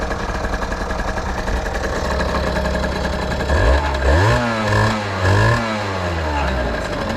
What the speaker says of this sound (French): on voit bien qu'elle prend beaucoup plus de tours.